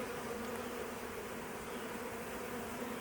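Honey bees buzz in a dense, continuous drone at an open hive during an inspection, steady and close throughout with no voices.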